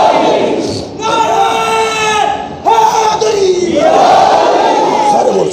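A large crowd at a religious gathering roars slogans in unison, three loud chanted bursts rising and falling with brief gaps between them.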